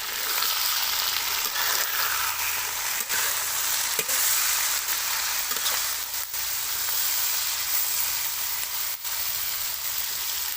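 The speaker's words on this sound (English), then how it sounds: "And then continue to fry." Tok Mol fries in a hot pan with a loud, dense, continuous sizzle, broken by occasional stirring scrapes and clicks of the utensil.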